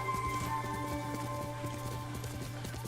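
Horse hooves clip-clop steadily at a trot in the Ghost of Tsushima video game, a continuous close rhythm over a low droning music bed, with an occasional whinny.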